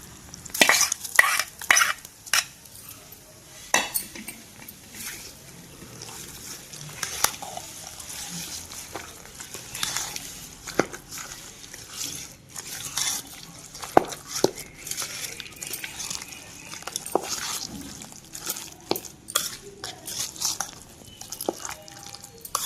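Spices tempering in oil in a small pan on the stove for a coconut chutney, a soft sizzle broken by frequent spoon scrapes and taps against the pan, close and intermittent.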